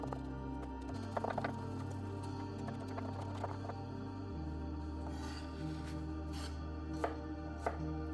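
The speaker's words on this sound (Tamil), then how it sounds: "இதை நல்ல சின்ன துண்டுகளாக வெட்டி எடுக்க வேண்டும்" A knife chopping onions into small pieces on a board, steady repeated cuts heard up close over a constant low hum in the background.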